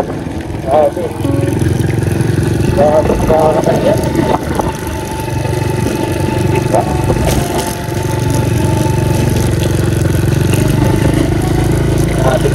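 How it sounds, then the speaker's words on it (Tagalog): A motorcycle engine idles and revs close by with a steady mid-pitched drone in a typhoon-damaged rural area, while a person talks over it. "Pasok na yung motor"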